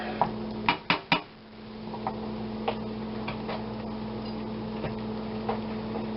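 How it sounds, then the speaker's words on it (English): A utensil stirs an egg and cheese mixture for a soufflé omelette in a bowl, opening with three sharp clinks against the bowl, then quieter scattered taps and scrapes over a low steady hum. "We stir that, and we stir it, and we stir it, and we stir it"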